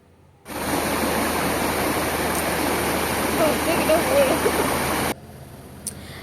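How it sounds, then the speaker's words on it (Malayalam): A small village waterfall, swollen by two days of steady rain, pours with strong flowing water in a close, continuous hiss that starts abruptly, holds steady for several seconds with a faint voice underneath, then cuts off. "വെള്ളം നല്ല സ്ട്രോങ് ആയിട്ടായിട്ട് വരുന്നത്, നല്ല സൗണ്ടാണ്"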